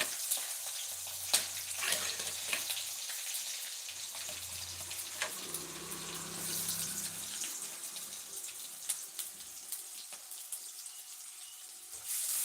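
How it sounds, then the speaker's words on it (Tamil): Chopped onions sauté in hot oil for pasta with a soft, continuous sizzle, marked by scattered clicks and stirring scrapes and a low hum in the background, with no voices. "நல்லா வதங்கிடுச்சுன்னா வெங்காயம் நல்லா வதங்கிடுச்சு"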